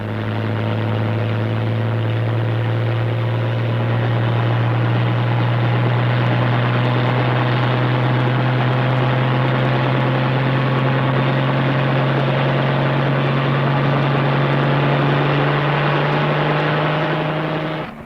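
An Army helicopter's engine and rotor drone steadily and loudly throughout, a constant low hum with a whining overtone, fading slightly at the very end.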